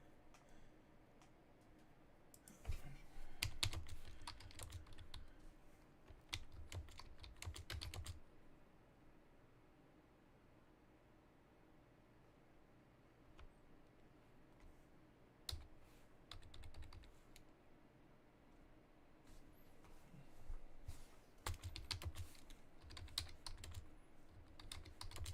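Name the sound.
typing on a computer keyboard while coding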